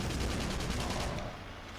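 Light tank firing in the video game Battalion Wars, a rapid burst of repeated loud shots that cuts off after about a second, leaving a low rumbling tail.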